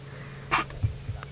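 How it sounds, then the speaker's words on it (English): A lion lets out a single short, breathy sneeze, followed by a few soft snorts and low rumbling breaths nearby, heard on a safari drive. "So Gendre sneezed and that little one went, ooh,"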